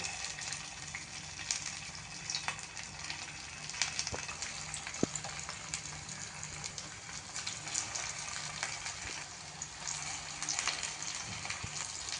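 Oats and vegetable cutlets coated in white sesame seeds fry in a pan, giving a soft, even sizzle with scattered small pops and crackles.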